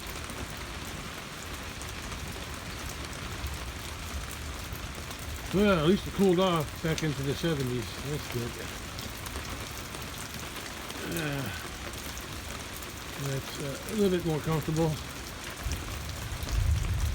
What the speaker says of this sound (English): it's started to rain again